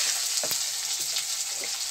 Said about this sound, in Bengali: এই বেগুনটাকে আমি আগে একটু ভেজে নিচ্ছি।